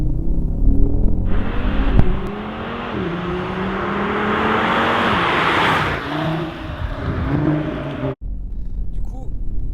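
Audi RS3 with 400 hp engine accelerating hard on the road, a loud sustained engine roar climbing through gear changes over several seconds, heard from inside the car with people talking over it.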